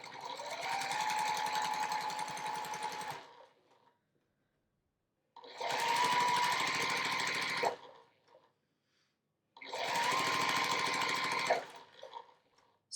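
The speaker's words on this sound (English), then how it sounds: "just sew a 1/4 inch seam all the way along it" A sewing machine runs a quarter-inch seam along quilt strips in three steady bursts of several seconds each, separated by short pauses, with an even, fairly loud mechanical whir.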